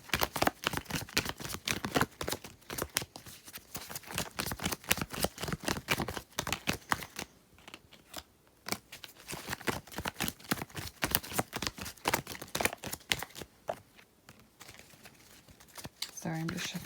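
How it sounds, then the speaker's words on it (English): A small deck of tarot cards is shuffled by hand in a series of quick, crisp riffling and flicking bursts, with brief pauses between rounds, close-up and fairly quiet, while a voice talks in between. "I'm just shuffling this little deck"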